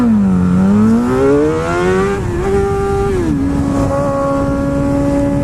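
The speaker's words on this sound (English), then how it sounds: "For whatever reason, my bike is annoyingly loud today." A loud motorcycle rides through traffic, its engine note close and droning, dipping and rising through gear changes before holding a steady, strained tone, with no talking heard.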